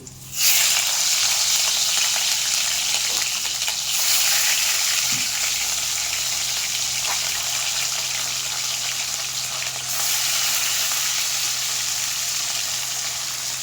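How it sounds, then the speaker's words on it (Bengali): Rohu fish pieces fry in hot oil, producing a loud, steady hiss of sizzling that carries on unbroken, with no one talking. "এখন আমি মাছগুলো ভেজে নেব"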